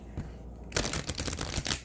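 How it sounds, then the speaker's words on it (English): Tarot cards riffle and slap together in a quick shuffle at close range, a dense burst of papery flutter lasting about a second after a brief quiet start. "One more shuffle."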